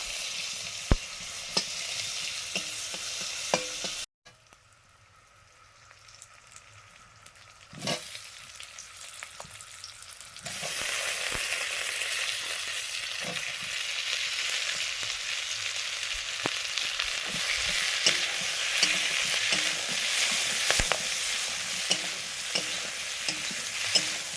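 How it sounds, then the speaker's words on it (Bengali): Fish curry bubbles and sizzles steadily in a pan after the fried fish goes in, a continuous frying hiss with a short quieter gap partway through and occasional light clinks. "ঝোলটা ফুটছে, আর একটু হলেই হয়ে যাবে।"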